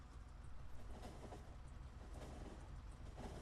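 A Factorio train pulls away from a station with a steady rolling rumble and faint rail clatter, continuous and fairly quiet throughout, with no voices over it.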